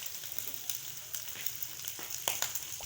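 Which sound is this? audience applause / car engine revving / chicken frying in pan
chicken frying in pan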